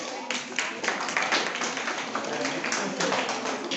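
A class of students clapping their hands together, a steady patter of many claps, fairly close and continuous throughout.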